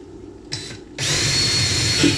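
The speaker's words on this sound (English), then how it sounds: "I just drilled into the bottom of something" A power drill bores in during a light installation. It gives a brief blip, then spins up into a steady, loud, close whine that runs to the end.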